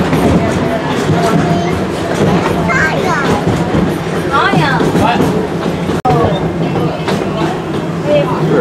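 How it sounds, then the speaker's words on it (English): A small tour train at Disney's Animal Kingdom rumbles along steadily with faint clicking and clatter, while people chatter nearby over the continuous ride noise. "A little train ride to the next area."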